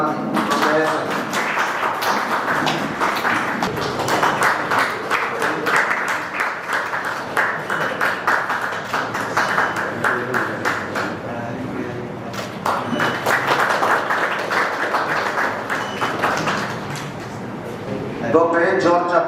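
An audience at a medical association's inaugural meeting in Kollam applauds a doctor being honoured, a long steady clapping that swells and dips over nearly twenty seconds, mixed with some chatter and a few thumps.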